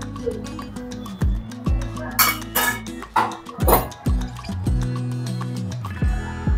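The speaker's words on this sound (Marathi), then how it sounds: "झाकण काढूया आता आपण" Metal clinks and clatters near a pot of boiling dal amti as its lid is handled and lifted, a series of sharp ringing knocks with tonal resonances and brief bubbling washes between them, close and fairly loud, no talk.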